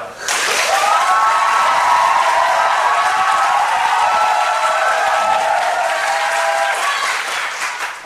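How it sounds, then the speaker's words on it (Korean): A student-council policy debate audience breaks into strong, sustained applause, a full roar of many clapping hands that swells quickly and holds for about seven seconds before fading at the end. "대답이 잘 됐더라도 너무 과하게 박수는 안 쳤으면 좋겠습니다"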